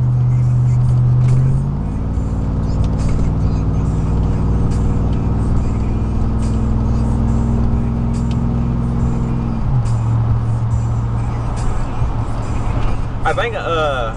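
A 2000 Chevrolet Silverado's 4.8 V8 idles with a deep, steady rumble. Its pitch rises slightly after a couple of seconds and settles back down near the end, loud and close throughout.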